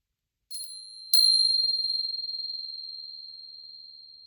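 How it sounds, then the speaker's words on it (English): Tibetan bells are struck twice, a light first touch and then a fuller strike. They give a pure, high, bright ring that decays slowly into a long, shimmering sustain in an otherwise quiet room. "my Tibetan bells"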